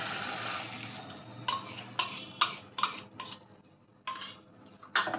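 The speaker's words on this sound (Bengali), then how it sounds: "ভালো করে মিক্স করে দেব।" A spoon stirs coconut milk into a hilsa fish masala in a metal pan over a lowered flame, with a string of close, scraping, clinking strokes at an uneven rhythm over a faint background hiss.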